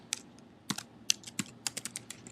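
Someone types code on a computer keyboard, scattered sharp key clicks in uneven bursts with brief pauses, close and fairly quiet, and no voice over them.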